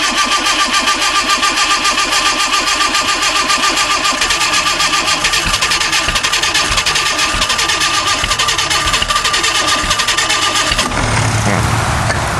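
An Onan 15 kW diesel light plant engine cranks and runs loudly up close with a steady, rapid rhythmic clatter, then cuts off abruptly near the end, leaving a quieter mechanical rattle.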